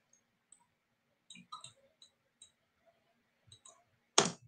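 A few sparse mouse clicks spaced across a quiet stretch while someone works in rendering software, each click short and close, followed by a louder brief burst near the end.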